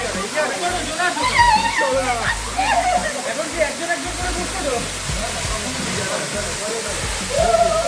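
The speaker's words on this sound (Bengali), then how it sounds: "সেই বাঁশে ঝর্ণার জল দিয়ে দিল" Waterfall water pouring through a cut bamboo pipe at Rainbow Waterfalls near Yelbong, a constant rushing, splashing flow close by, with people talking over it throughout.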